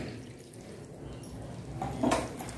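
Half a glass of plain water poured into simmering tomato curry in a home kitchen, a brief splashing pour that swells near the end over low background noise.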